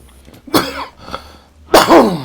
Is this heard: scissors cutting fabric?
no